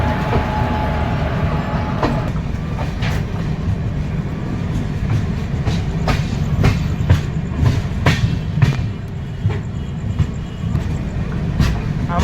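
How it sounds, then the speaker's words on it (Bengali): The Garib Rath Express pulls out of Kolkata station at night with a heavy, steady rumble and repeated sharp clickety-clack wheel beats over the rail joints, loud and close. "ফাইনালি কলকাতা স্টেশন ছাড়িয়ে ট্রেন বেরিয়ে যাচ্ছে।"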